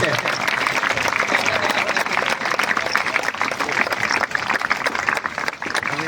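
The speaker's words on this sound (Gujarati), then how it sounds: "તાળીઓ બંધ ન થવી જોઈએ" Sustained, loud audience applause from a large crowd at an event in Junagadh, a dense continuous clatter of clapping lasting throughout, with voices mixed in.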